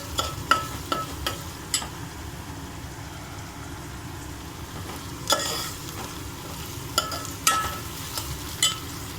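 Beaten egg poured into a hot pan for egg fried rice, sizzling steadily while a spatula scrapes and clacks against the pan in irregular bursts.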